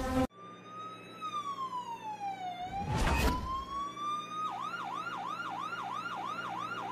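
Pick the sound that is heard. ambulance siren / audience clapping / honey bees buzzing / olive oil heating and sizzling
ambulance siren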